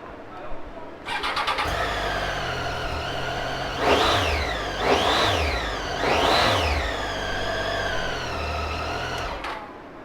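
A 2016 Triumph Tiger 800 XRX ABS motorcycle, 7033 miles, is started up close by, then its engine idles loudly with three distinct revs rising and falling before it cuts off.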